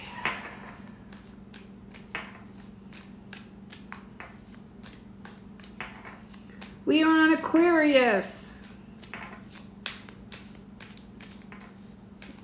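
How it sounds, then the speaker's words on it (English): A smallish tarot deck is shuffled in one brisk riffle lasting about a second, with a rapid flutter of cards and a final snap. It comes among quieter card taps and handling sounds, and a voice speaks briefly. "I just want to give him a little bit of a shuffle."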